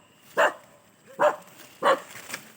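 Dogs bark three times at a steady pace, fairly close and sharp, each bark standing apart over quiet outdoor background.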